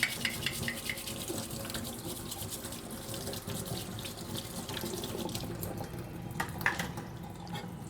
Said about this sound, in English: I'll just rinse my spoon anyway since I'm here.